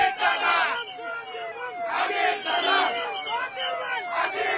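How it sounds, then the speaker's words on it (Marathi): Party supporters chant slogans loudly outside a vote-counting centre for the Malegaon cooperative sugar factory election, a dense crowd of voices rising in repeated surging bursts that stay steady and close throughout. "मतमोजणी केंद्राबाहेर कार्यकर्त्यांकडून जोरदार घोषणाबाजी सुद्धा सुरू करण्यात आली"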